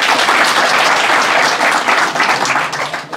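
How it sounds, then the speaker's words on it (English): A large audience claps in a sustained round of applause at a motivational talk to students, dense and steady throughout before easing slightly at the end. "Please give a huge round of applause for him."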